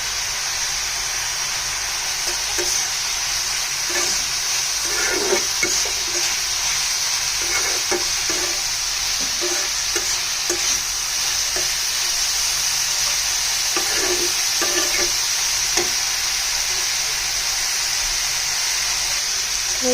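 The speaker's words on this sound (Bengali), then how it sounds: "আদা রসুনটা যাতে কষে যায় এখানে আমি মাঝখানে দিয়ে দিচ্ছি" Ginger, garlic and winter vegetables fry in a pan with a steady bright sizzle and hiss, broken by repeated scraping stirs of a spatula, loud and close with no talk.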